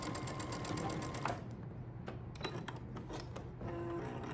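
A sewing machine stitches quilt fabric with a fast, steady mechanical whir and rapid needle clatter that slows and pauses partway through, then resumes; close and fairly quiet, with no talking.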